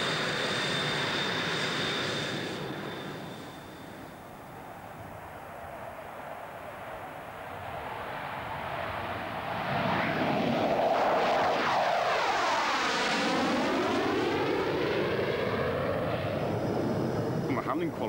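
A loud engine of a pre-production test aircraft roars steadily, with a sweeping pitch shift as the plane passes close by, the drone swelling and then holding strong.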